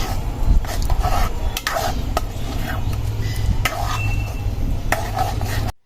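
Mango pulp is stirred in a pot while it cooks, a spoon scraping and knocking against the metal in repeated sweeps over a low steady bubbling hum.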